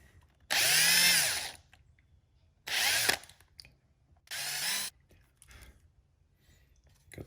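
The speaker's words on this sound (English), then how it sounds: "All right, I drilled a hole." A handheld power drill bores a hole in a Porsche Boxster 986 mirror cover in three short whirring bursts of about a second each, with quiet gaps between them and no talk.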